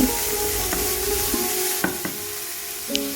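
Chopped vegetables frying in a pan with salt for Bengali fried rice made with Gobindobhog rice hiss in a continuous, close sizzle, broken by a few sharp clinks and scrapes of a stirring utensil, with no one speaking.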